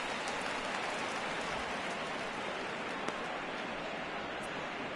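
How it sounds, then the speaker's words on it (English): Steady rain pours over an outdoor Eastern League championship baseball game between Altoona and Trenton, a dense, even hiss of drops hitting the field and surfaces that holds at a constant level throughout with no voices. "we've mentioned the conditions aren't ideal with the rain coming down"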